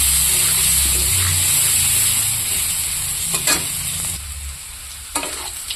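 Cut potatoes fry in hot oil in a wok, giving a loud, steady, close sizzle with a few stirring scrapes and clatters near the end.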